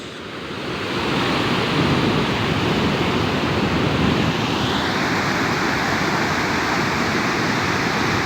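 Tugunan Falls roars with loud, continuous rushing water, a dense steady wash of sound close to the plunge, swelling in the first second and then holding at full strength with no talk.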